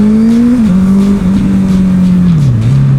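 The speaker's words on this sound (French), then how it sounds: "Regarde, j'ouvre en grand en première." A Honda Bandit motorcycle revved at full throttle in first gear, a loud close engine note climbing and shifting pitch in steps over a few seconds.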